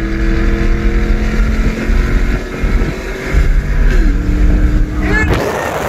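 A Ram 1500 pickup with a Comp Cams camshaft idles and revs, a steady low engine rumble with pitch shifts as the throttle moves. Wind buffets the microphone.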